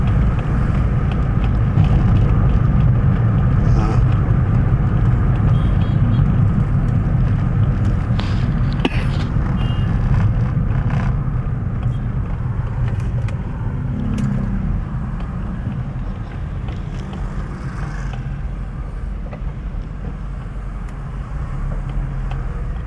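Dense road traffic rumble with car engines idling and creeping in a jam at an intersection around 7 a.m., steady and continuous throughout, with no voices.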